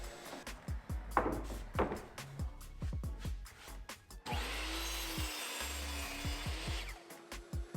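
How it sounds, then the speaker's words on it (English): A miter saw cuts stained, clear-coated wood pieces to the same length. First come scattered knocks and handling clatter, then the motor spins up with a loud whining cut that runs for a few seconds before winding down, close by. "I took them over to the miter saw and cut them all down to the same length."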